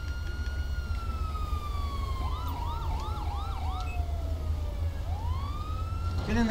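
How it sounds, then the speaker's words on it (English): Police sirens in the LSPDFR police game, a rising and falling wail that breaks into a quick yelp pattern before sweeping back to a long wail, loud and continuous over a steady low engine rumble, with no talking. "All these goddamn sirens, and he's too stupid to move"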